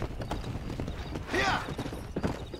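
Horse hooves clip-clopping in Red Dead Redemption: Undead Nightmare, a quick steady gait running throughout with a short whinny-like creak in the middle.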